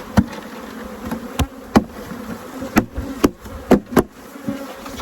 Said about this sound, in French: Je vais frapper la ruchette pour que toutes les abeilles tombent en fond.